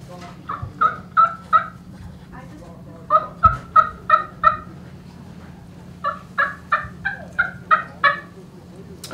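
Turkey call imitating soft hen talk on the roost, giving three quiet bursts of clucks and yelps in an even rhythm, repeated after short pauses, close and alone.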